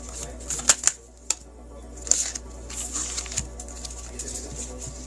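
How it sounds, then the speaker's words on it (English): Oracle cards being shuffled, a few quick crisp riffles and snaps over a steady low room hum, with soft background noise between. "Okay, Penelope, these 3 cards flipped while I was shuffling."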